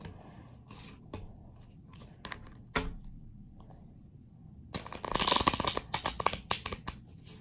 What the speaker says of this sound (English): Now we will cut the deck a few times